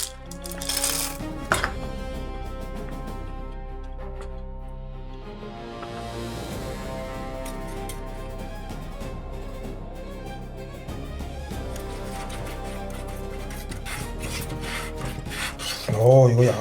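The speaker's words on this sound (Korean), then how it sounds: "자, 코코아 버터를 넣겠습니다." Cocoa butter is added while making a 1941 Scho-Ka-Kola style chocolate, heard as a continuous rough rasping and grinding rub with some tonal ringing, close and fairly loud, with a few sharp knocks at the start and end.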